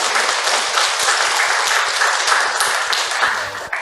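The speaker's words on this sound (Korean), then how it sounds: "경강하고 공부담 준비하신 분께 박수 한번 보내주세요" An indoor audience at a gathering applauds together, a dense, continuous wash of many hands clapping close and loud for several seconds before it starts to fade near the end.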